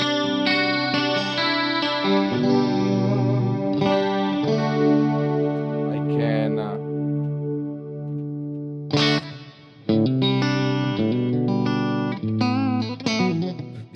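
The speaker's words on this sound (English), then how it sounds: "So I can show you the clean channel. It's really clean." A clean electric guitar runs through a Fractal Mesa Mark IIc+ preset with chorus-like shimmer, playing sustained ringing chords that fade, then resume with new strums, loud and alone without talk.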